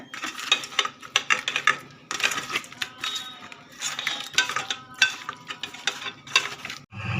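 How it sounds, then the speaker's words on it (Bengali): Rohu fish pieces being mixed by hand with oil in a bowl, giving repeated soft, wet squelching and clattering bursts at a steady, close working rhythm with no talk. "এবারে আমি মাছটা মাখিয়ে নেব"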